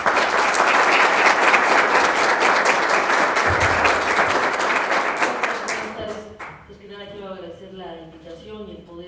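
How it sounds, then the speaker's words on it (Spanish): An audience applauds to welcome a lecturer at a conference, loud sustained clapping for about six seconds that fades, after which a voice begins speaking. "Por favor, la recibimos con un fuerte y caluroso aplauso."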